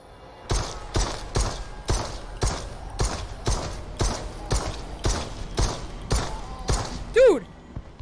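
Gunfire from the shooter game Propagation: Paradise Hotel, with a dozen evenly spaced, punchy shots fired about two per second, each with a short mechanical tail, followed by a brief sliding whistle-like tone at the end.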